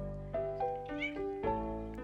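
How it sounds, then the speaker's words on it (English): A pet cat meows several times in quick succession for attention, close and clear, each call short and rising or falling, in a quiet room with no talking. "I got the cat on my lap now"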